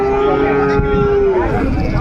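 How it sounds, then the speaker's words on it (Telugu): A single drawn-out moo from a Punganur calf, loud and close, over a busy background of other animals and crowd noise at a cattle market. "ఇవి వచ్చేసి దూడలు అనమాట"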